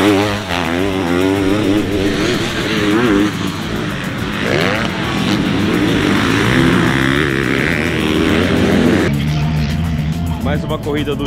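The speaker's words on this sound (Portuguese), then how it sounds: "Corrida do dia, agora MX1, categoria principal." MX1 motocross bikes racing at a Campo Grande event, loud engines revving and shifting pitch as they pass, with a voice talking over them throughout.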